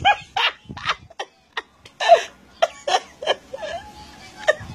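A dog barks and yips in short, sharp bursts amid laughter and chatter, with the barks coming at irregular intervals close by.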